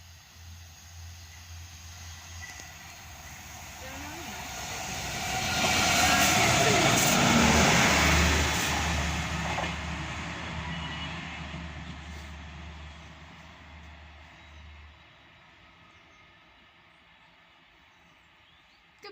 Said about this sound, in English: It's the cleaning train.